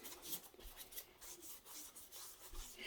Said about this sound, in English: So I'm going to rub the dirt. See if it comes off.